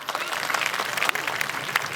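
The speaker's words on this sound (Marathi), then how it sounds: "एकदा दोन्ही हात उलगून टाळ्या वाजवा" Audience hand clapping at a live Marathi comedy games event, a dense, steady patter of many hands for two seconds, moderately loud with crowd noise mixed in.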